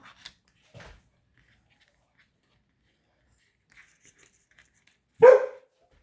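A single dog bark, loud and close, rings out alone in a quiet room after a few faint rustles and soft handling noises from a die-cutting session.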